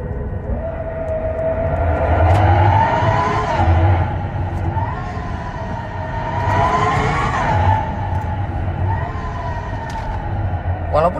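Hyundai Ioniq 5 N electric car producing its synthetic engine sound in supersonic mode, a whining, jet-like tone that swells and falls in repeated waves, loud and continuous, with no talk heard.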